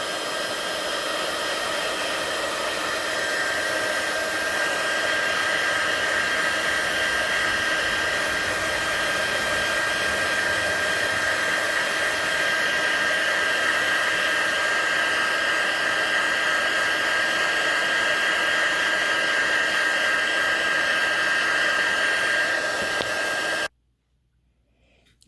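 A heat embossing tool blows continuously over a papercraft project, a loud steady fan-and-heater whoosh with a constant whine, running unbroken for over twenty seconds before cutting off abruptly.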